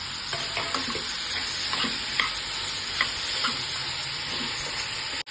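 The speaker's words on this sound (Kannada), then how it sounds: "ಈಗ ಟೊಮೆಟೊ ಮತ್ತು ಹುಣಸೆಹಣ್ಣು ಹಾಕ್ಕೊಳ್ಳೋಣ" Tomato and tamarind drop into softened ridge gourd cooking in a pan, setting off a steady close sizzle with scattered stirring clinks and taps throughout, no voices.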